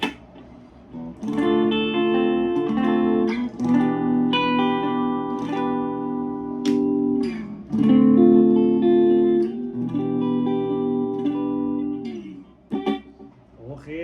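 A clean electric guitar, an Indonesian-made Epiphone Les Paul Standard, rings through an amplifier, strummed chords and picked notes sustaining with a warm, steady tone, no voices over it.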